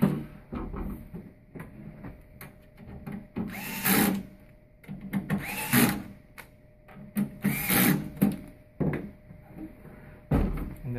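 A power screwdriver whirs in several short, loud bursts as screws are backed out of a Revolation Delta during a control card swap, with clicks and handling noises between runs.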